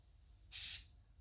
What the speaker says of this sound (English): I'm actually using the filler primer, the Rust-Oleum filler primer